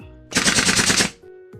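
A rapid burst of automatic gunfire in the video game MiniWorld Royale, loud and close, rattles for under a second before cutting off, with a faint game-like tone beneath.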